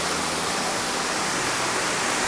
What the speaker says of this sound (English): if you look at all this water coming down